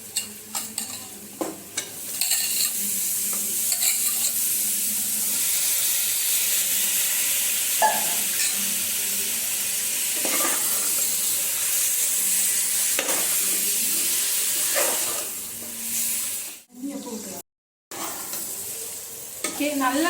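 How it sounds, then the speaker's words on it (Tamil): Turmeric-washed chicken frying in biryani masala, giving a steady close sizzle and hiss with repeated scraping stirs, plus a brief dropout near the end. "அடுத்தது மஞ்சள்ல போட்டு வாஷ் பண்ண சிக்கன் போட்டுடலாம்."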